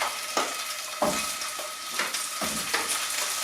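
Sausages browning in a pan, a loud continuous sizzle and spit with several knocks and scrapes as tongs turn them, close up and without talking.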